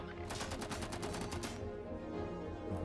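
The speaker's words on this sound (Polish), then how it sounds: "Jeszcze jeden strzał." Rapid bursts of gunfire in the video game Zephon crackle in quick succession, loud and punchy, then fade into a rumbling background.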